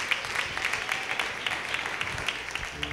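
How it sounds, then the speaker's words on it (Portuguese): A church congregation at a Pentecostal service claps along in a steady rhythmic beat, the regular hand claps sitting over a busy room wash of voices and movement. "As palmas podem glorificar o nome do Senhor."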